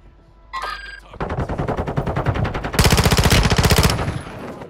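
Rapid automatic gunfire in an online shooter video game, a short opening burst followed by a steady stream of closely spaced shots that grows louder and denser before stopping, with no talk over it.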